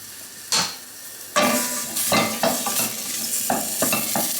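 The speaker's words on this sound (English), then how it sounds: "I'm going to pop that in to start frying off with my pancetta." Diced onion drops into a hot pan with pancetta and fries, a steady sizzle broken by loud scraping stirs and utensil knocks against the pan, close up and without talk.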